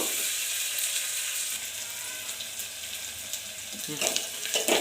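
Crushed garlic, curry leaves and onion fry in a pan for sambar, giving a steady faint sizzle throughout with a few louder scrapes and stirring clatters near the end; no one talks.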